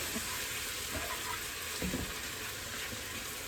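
Minced garlic hitting melted butter in a pan over high heat gives off a steady, close crackling sizzle with a few soft clatters, running throughout without talk.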